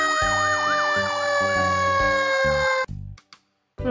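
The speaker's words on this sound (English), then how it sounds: "Right, fire truck." A fire truck siren wails loudly and close with a rising-falling warble over a steady horn-like tone and a low pulsing engine, then cuts off abruptly, followed by a few short clunks and silence.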